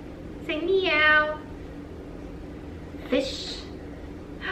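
A voice imitates a cat's meow for a toddler, a clear rising-falling meow followed a couple of seconds later by a shorter spoken bit, close to the mic in a quiet room.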